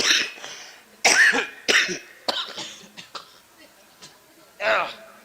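Several rough, hacking coughs come in separate bursts, with someone speaking in between them.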